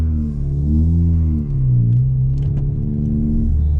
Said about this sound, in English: Bit of a loud car on the inside